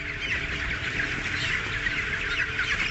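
Dense clucking and chatter of thousands of chickens packed into a 20,000-square-foot poultry house, a constant close wall of bird noise with no pauses.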